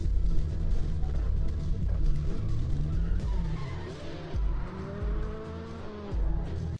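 A car drifts through a scene from the movie Tokyo Drift, its engine roaring loud and steady under rising and falling tire squeal and skid noise, with a brief lull near the end.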